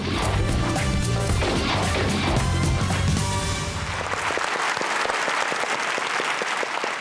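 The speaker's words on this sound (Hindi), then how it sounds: "तालियां।" Studio audience applause on a comedy talk show, a dense loud roar of clapping that carries on for several seconds before thinning into scattered, sharper individual claps near the end.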